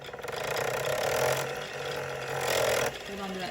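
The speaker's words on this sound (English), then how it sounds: "And then I'm going to press the presser foot on my machine." A Bernina Activa sewing machine running with the presser foot pressed, a steady close mechanical whir in two bursts separated by a brief pause, and faint background sound.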